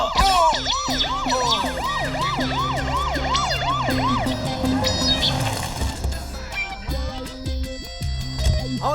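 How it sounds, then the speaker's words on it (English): Police sirens wail in a film scene, a loud, rapid rising-and-falling cycle that repeats for several seconds before giving way to other sounds. "Can you hear the sirens? The police."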